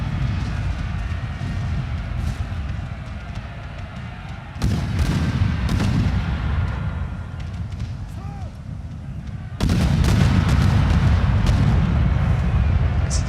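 Artillery fire booms in a France versus Mamluks battle video game, with rounds going off in sudden loud bursts near 4.7 and 9.7 seconds over continuous low battle rumble while someone talks throughout.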